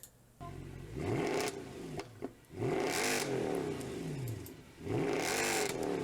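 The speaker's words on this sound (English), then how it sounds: "just imagine a C63 AMG V8" A Mercedes C63 AMG V8 engine revs hard several times, each burst climbing and falling in pitch, with short idle pauses between.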